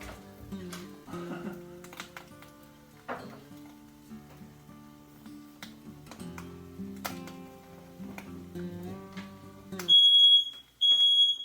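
A smoke alarm shrills in loud, high beeps near the end, after a stretch of clattering kitchen noise with tonal hums and scrapes while an egg is cooked.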